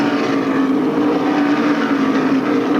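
SK Modified race cars roar around Stafford Motor Speedway in a 1993 feature race, a loud, steady wall of engine noise from a pack running close together, with no breaks in the drone.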